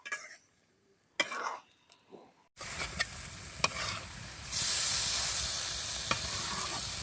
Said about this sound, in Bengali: এবার কাঁঠালটা ভালো করে আউজে নেবো।